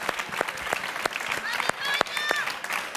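Studio audience applause on a Greek television game segment, with scattered, rhythmic claps that carry on steadily. A voice talks over the clapping.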